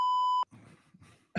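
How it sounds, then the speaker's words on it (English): A single steady censor beep tone, loud and clean, cut off sharply after under half a second, followed by low mumbling voice-like sounds. "Wait, I could beep myself."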